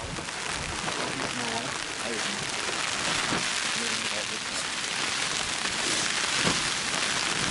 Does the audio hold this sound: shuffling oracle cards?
no